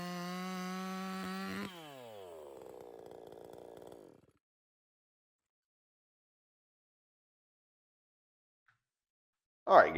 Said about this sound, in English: I just wanted to cut off a few cross sections of the log